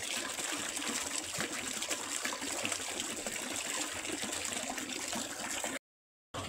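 Spring water from a freshly cleaned mountain source flows in a steady, even trickle and splash, continuous and moderately close, ending in a brief cut.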